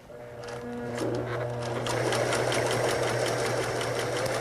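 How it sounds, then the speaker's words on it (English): A sewing machine fitted with an Elastic Wizard attachment stitching elastic onto fabric, its motor hum rising into a steady, fast rhythmic needle chatter that runs close and continuous. "Drop the presser foot, and I'm ready to stitch."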